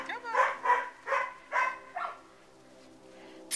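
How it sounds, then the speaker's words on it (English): Six-week-old puppies at play with a dog barking in about five quick, fairly close yaps, followed by quieter background sound. "Sorry for the barking."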